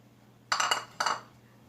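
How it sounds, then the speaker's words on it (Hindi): Chickpeas tipped into a mixing bowl for lobia chana chaat, two quick clattering bursts of hard pieces striking the bowl, close and clear over a quiet background with a low hum. "तो सबसे पहले चने डालेंगे"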